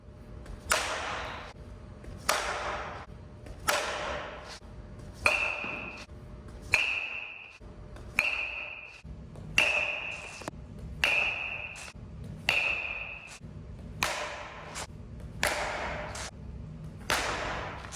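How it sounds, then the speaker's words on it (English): A baseball bat hits balls off a Brinnia portable batting tee in a steady series of about a dozen sharp cracks, some ringing with a metallic ping, each followed by a short fading tail. "after hitting quite a few balls off this thing"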